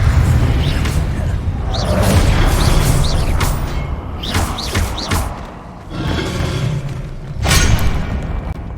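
Expelliarmus spell casting in Hogwarts Legacy combat: a string of heavy booming thuds and airy whooshes, with several loud bursts spaced across the stretch and a rumbling low background.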